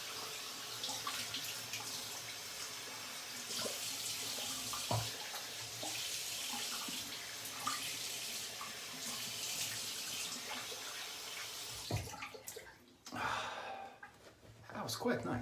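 Tap water runs steadily into a sink while a razor is rinsed after a shave with Arlington soap, a continuous close splashing stream that breaks off near the end with a few clatters and a voice.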